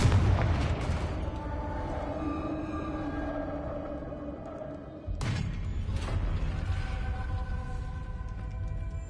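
In the Hogwarts game, the Confringo blasting spell sets off a loud, close explosion that rumbles and decays. A second heavy blast hits about five seconds later, followed by a sustained roar.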